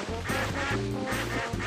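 Cartoon ducks quack in the Tasty Blue video game, a steady run of loud, buzzy quacks in quick rhythm with no talking.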